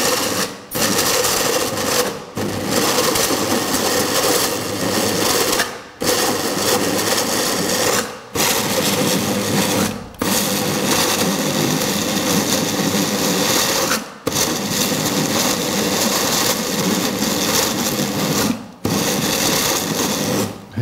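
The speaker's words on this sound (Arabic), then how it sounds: "هنا بغينا نطحنو غير شويه" A food processor grinds ingredients for baked beehive makrout pastry, its high motor whine running in a series of several-second pulses separated by brief stops.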